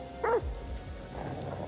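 A puppy in the horror video game The Devil In Me lets out a single short, close bark, followed by quiet low rumbling background noise.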